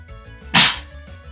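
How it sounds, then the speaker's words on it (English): A single sharp sneeze bursts out close by, a quick breathy explosion rising above a quiet background hum and fading within half a second. "Oh, I gotta sneeze."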